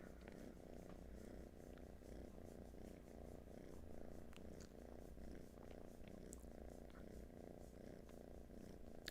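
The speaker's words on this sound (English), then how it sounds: "Oh, you can hear the purrs." Several contented cats purr close by, a steady low rhythmic rumble continuing alone throughout at soft level.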